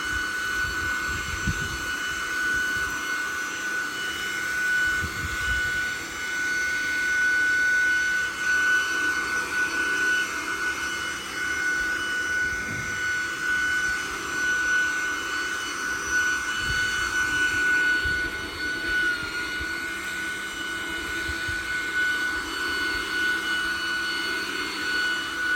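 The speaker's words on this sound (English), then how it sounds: "Blowing these leaves should be a service by itself, right?" Steady, loud whooshing roar of a leaf blower driving leaves across a lawn during a lawn-care service, holding at an even level for the whole stretch with a constant high whine and no talk.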